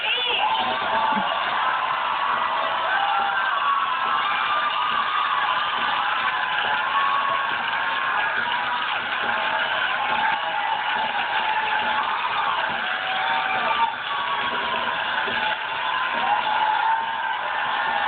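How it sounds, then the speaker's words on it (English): A television studio audience cheers and whoops for actor George Eads, a dense, steady roar of clapping and shouting that holds for the whole stretch, with a host's voice faintly mixed in. "What a great crowd."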